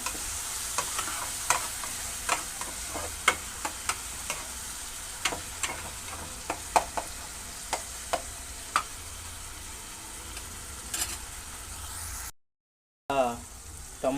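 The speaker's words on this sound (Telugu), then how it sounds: "ఈ టమోటా కూడా ఒక రెండు నిమిషాలు మగ్గితే" Tomatoes cooking down in a pan for a gongura prawn curry, a low steady sizzle punctuated by regular ticking spoon strokes against the pan, briefly cut to silence near the end.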